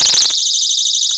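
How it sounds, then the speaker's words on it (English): A personal safety alarm, set off by pulling its cord, blares a continuous shrill, piercing tone at high volume for the whole stretch, with a brief rumble of handling noise at the very start. "I'm going to pull this cord and a loud sound's going to come out"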